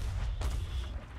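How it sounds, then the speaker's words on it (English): Cannon fire in the pirate video game Sea of Thieves at a skeleton fort, a single heavy boom over a constant low rumble of sea and wind. "they're back at the cannons again"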